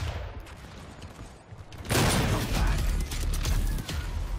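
Weapon fire in the DOOM beta video game builds into a loud, dense rush of rapid shots and blasts after a quieter stretch of rumbling background action.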